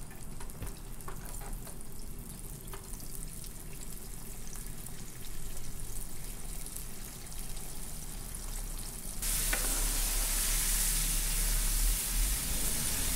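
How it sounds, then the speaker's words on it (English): Cornstarch-coated salmon head pieces frying in hot oil give a steady crackling sizzle that swells suddenly into a louder, brighter hiss partway through, with no talking. "So the head parts I'm gonna fry it up a little bit longer than belly side."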